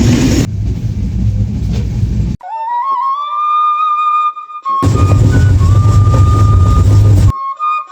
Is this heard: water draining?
no